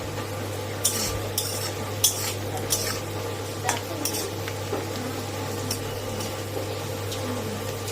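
Onions fry in a pan for egg curry, a steady low sizzle under repeated scraping stirs and light clinks of a spoon against the pan, with no talking.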